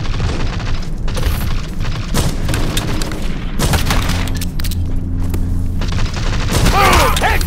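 Bursts of gunfire and booming sniper shots in the mobile shooter Modern Strike Online, played as a team deathmatch on the Port map with a Remington sniper rifle: loud, dense, repeated volleys with short pauses between them and game mechanism clicks.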